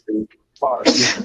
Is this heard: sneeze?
yes